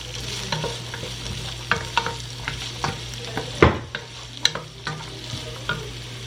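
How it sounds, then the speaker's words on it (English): Food frying in a pan on a farm kitchen stove is stirred steadily, with a constant sizzle under sharp utensil scrapes and knocks close by. "We're just going to stir this around."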